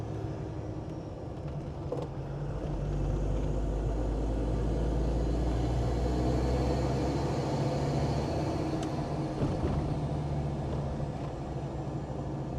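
A Land Rover Defender Td5 diesel fitted with an aftermarket VNT turbo drones steadily from inside the cab on a road test, engine rumble swelling slightly under acceleration with faint turbo whine, continuous and without talk.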